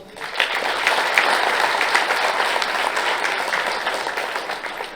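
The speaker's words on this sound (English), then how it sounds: "Let's once again express our appreciation with a warm round of applause." Sustained audience applause fills a conference hall at a GST conclave, a dense, steady wash of many hands clapping at full strength for the whole stretch, with no talk on top.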